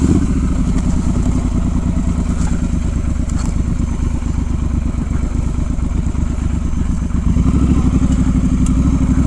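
A Triumph Scrambler 1200 XE motorcycle rides slowly off-road through the woods in first gear, its engine giving a steady, close, low rumble with a faint clattery texture throughout.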